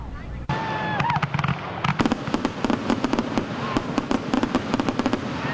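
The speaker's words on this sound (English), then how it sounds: "This is a look at the fireworks show last night in Brewerton." Rapid crackling Fourth of July fireworks in Brewerton pop and snap in dense bursts, loud and continuous, with a whistle early on and voices faintly underneath.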